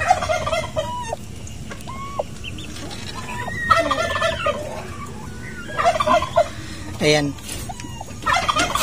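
Repeated male turkey gobbles ring out at close range among clucking fowl, with a brief spoken word between calls.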